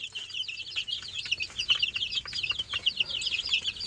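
A brood of about twenty-one broiler chicks on a farm keeps up a dense, high, continuous peeping and chirping close by, many small voices overlapping with no talk.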